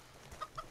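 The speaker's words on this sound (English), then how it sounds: "He just kind of clucks." A chicken character in the video game CHKN gives two short, quiet clucks in quick succession, faint against a low background hum.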